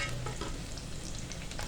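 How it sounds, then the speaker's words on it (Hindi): Whole garlic cloves fry with onions in a pan, giving a soft, steady sizzle with faint crackles and a brief stir, quiet and close with no voices. "इसको इसी तरह से साबुत डाल देंगे और हल्का सा इसके प्याज के साथ ही फ्राई कर लेंगे"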